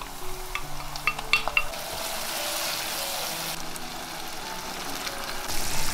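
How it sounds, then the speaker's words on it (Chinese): Sauce mixture poured into a hot pan of diced char siu pork that was stir-fried with a splash of sorghum liquor, giving a steady hiss and sizzle with a few light clinks of utensils, close and continuous. "接着把料汁淋进来"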